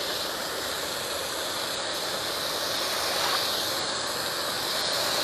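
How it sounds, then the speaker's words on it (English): Kale hitting a hot pot of white bean soup at a camp cooking setup, giving off a steady, close broadband hiss of steam that holds evenly throughout with no talking. "I'm going to go ahead and put my kale in here"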